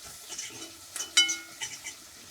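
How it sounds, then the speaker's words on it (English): A spoon scrapes and clinks against a pot as flour is stirred into potato soup while camp cooking in the mountains, a few quiet stirring scrapes with one sharper metallic clink midway. "Then stir that in until it's nice and homogeneous."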